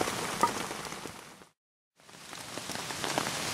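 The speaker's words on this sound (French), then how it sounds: "une super nuit, bercée par le bruit de la pluie" Steady rain patters on a tent at night while bivouacking, a dense, even hiss of drops. It fades out to brief silence midway, then returns and builds back up.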